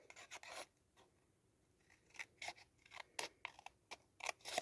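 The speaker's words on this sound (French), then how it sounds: "Donc, on va le découper." Scissors snip through paper in a quiet craft setting, a series of short, crisp cuts in uneven bursts with pauses between, close and soft.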